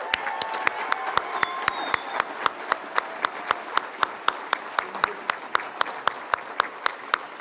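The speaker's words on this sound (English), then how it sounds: "let's a round of applause for the excitement of us all being able to be out" Audience applause at a graduation ceremony, a steady patter of many hands clapping with sharp individual claps standing out through the whole stretch, a few background voices faintly mixed in.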